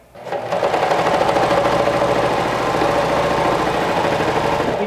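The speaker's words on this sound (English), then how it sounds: "Give your machine a chance to adjust its presser foot." Sewing machine running steadily, stitching a shoulder seam on a dress with clear elastic in the seam, a close, continuous whirring hum that starts after a brief pause and holds constant for several seconds.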